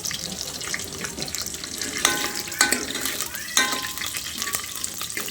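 Tempering sizzles in a pan, a continuous close frying hiss with a few sharp metallic clinks and scrapes of a utensil against the pan.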